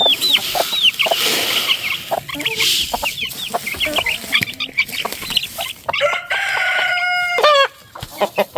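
Hens squabble over territory in a chicken yard, trading sharp squawks, clucks and agitated cackles in a jumbled back-and-forth, with a louder burst of rhythmic squawking near the end.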